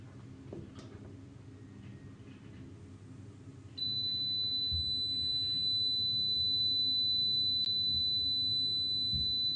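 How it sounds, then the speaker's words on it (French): A Babyliss automatic hair curler gives off a thin electronic beep that starts partway through and then holds as a steady high tone over a quiet room hum, with one brief click near the end. "Vous laissez le premier bip, deuxième, troisième."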